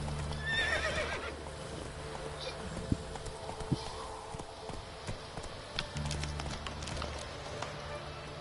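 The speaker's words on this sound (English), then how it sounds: "This is a gray horse" A gray horse in a video game neighs and whinnies while its hooves clip-clop in a steady rhythm, with occasional sharper hoof strikes and a soft voice talking underneath.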